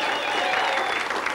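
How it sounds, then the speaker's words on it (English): Game show studio audience applauding a contestant on Rock 'n Roll Wizz, a steady, fairly loud sheet of clapping with a faint hum running underneath. "Jane, what about a big round of applause?"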